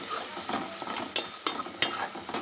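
Ginger garlic paste frying in oil in a pan for an Andhra-style fish curry, soft sizzling broken by a few sharp stirring scrapes near the end, close and fairly quiet.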